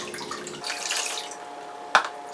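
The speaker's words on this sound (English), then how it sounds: "now we're just going to lightly just pour this around the glove." Liquid is poured lightly from a cup around a baseball glove, producing soft trickling and splashing that swells then fades, followed by one sharp close tap.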